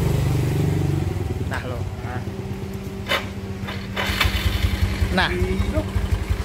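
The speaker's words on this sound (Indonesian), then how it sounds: "Hidup ini motor." A Yamaha Mio Smile scooter that had sat dead for six months after water got into it runs with a steady low engine chug, with occasional revs and brief sharp clicks while people talk over it.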